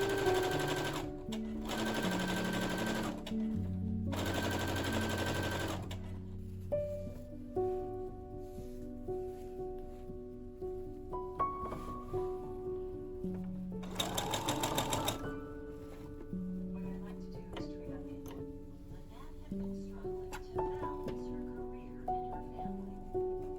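A sewing machine gathers organza for a petticoat skirt, running in rapid mechanical bursts that start and stop repeatedly, with musical background underneath throughout.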